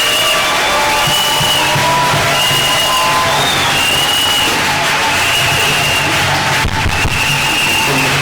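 A church congregation cheers and acclaims loudly at a Sunday service, a dense, sustained roar of voices with whoops and whistles rising and falling throughout.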